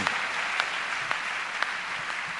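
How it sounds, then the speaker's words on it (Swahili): A church congregation applauds a pastor with steady, dense clapping that fills the room, sustained and even throughout with a few sharper claps standing out. "Asante kwa kunichapia makofi"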